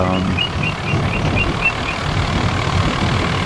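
A farm tractor engine runs steadily at a low rumble, close and continuous, with a faint rhythmic high whine over it and no talk.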